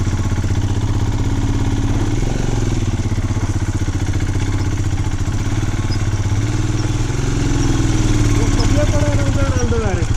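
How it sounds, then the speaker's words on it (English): A motorcycle engine labours up a steep hill climb to a parking spot in Spiti, a close, loud, steady throbbing rumble that rises slightly in effort near the end, with voices faintly underneath. "now I have to do this terrifying looking hill climb to park the bike"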